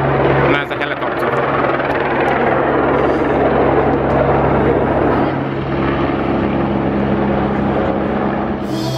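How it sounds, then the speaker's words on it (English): A loud, steady helicopter drone with a low rotor hum fills the clip, close and unbroken throughout. "And there's a helicopter."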